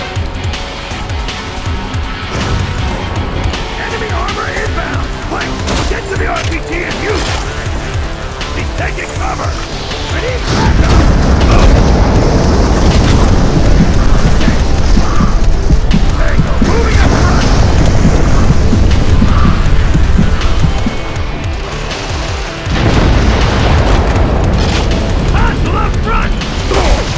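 Relentless heavy gunfire and explosions from the video game Modern Combat 4 Zero Hour form a loud, continuous roar of shots and booms. The barrage builds heavier partway through and carries on with barely a pause.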